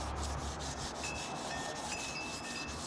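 Sanding the finish on a guitar body, steady rapid back-and-forth abrasive rubbing strokes, close and fairly quiet, continuous throughout with no talking.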